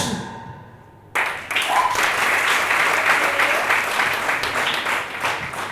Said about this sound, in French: on applaudit plus fort pour ce trio magique